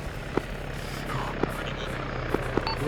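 A military helicopter flying over a field training exercise, its steady rotor drone running continuously in the background with a few sharp pops on top.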